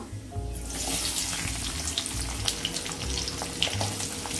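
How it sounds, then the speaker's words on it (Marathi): Chopped onion dropped into hot oil for chana masala, a steady broadband sizzle with small crackles and pops running throughout, close and fairly loud with no talking. "टाकूया कांदा"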